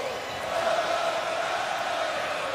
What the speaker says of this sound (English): Listen to this crowd as Patterson weaves his way on the kickoff return.